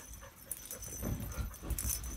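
A dog that wants to play with ferrets whimpers in short, faint, high whines indoors, mixed with soft panting and light jangling.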